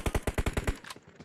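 Rapid automatic gunfire in the battle-royale game PUBG, about seven close, loud shots in a steady burst, followed by a few weaker, scattered reports.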